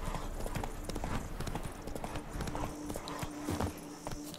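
A horse's hooves clip-clop steadily in the video game The Witcher 3, a brisk rhythmic trot over ambient game sound, close and fairly quiet throughout.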